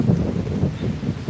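Wind buffets the microphone outdoors at Derby Hill Bird Sanctuary in Mexico, New York, overlooking Lake Ontario, a continuous low rumbling gust with uneven surges and no voices.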